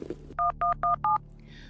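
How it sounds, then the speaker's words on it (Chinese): Four evenly spaced telephone keypad tones beep in quick succession, clear and close, with no talking over them. "我给大姑打电话。"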